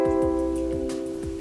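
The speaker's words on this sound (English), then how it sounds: "it makes a really high-pitched sound" A bright, high-pitched ukulele chord rings out and sustains, with a few soft strums and taps over the decaying tone.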